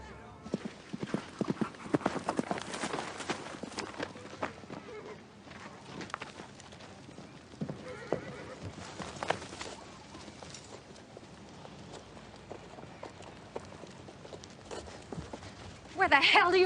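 Hooves clip-clop in a steady walking rhythm, fairly faint and close, with quiet voices in the background and a louder noise at the end.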